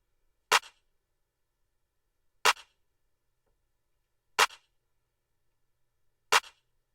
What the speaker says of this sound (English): just threw down a clap that's layered with a snare